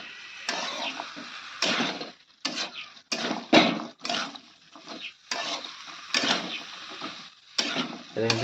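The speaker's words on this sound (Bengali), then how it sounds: "এখন ভালো করে মিক্স করে দেবো" A spoon stirs sliced onion flowers and a medium potato through fish curry in a pan. Repeated scraping and clattering strokes come in uneven bursts, close and fairly quiet, with a faint sizzle underneath.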